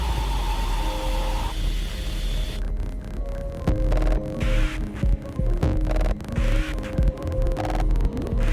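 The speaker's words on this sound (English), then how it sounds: "Squelchy bass drops with piano layering in the background." Music track with squelchy, throbbing bass drops layered under piano, loud and continuous with pulsing low end and sustained tones, a sparser lead-in giving way to a fuller dense section.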